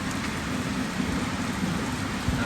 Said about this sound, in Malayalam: നല്ല മഴ, നല്ല തണുപ്പുണ്ട്.